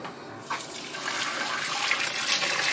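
Sweet wort for homemade beer poured from a saucepan through a strainer, a steady splashing, trickling stream of liquid up close that grows slightly fuller as it goes on, with no talking.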